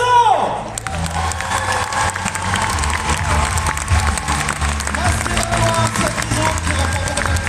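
A crowd at the Paris Games Week cosplay contest applauds and cheers loudly for the third-place winner, a thick sustained clapping with shouts, after a brief announcer voice and a rising tone at the start.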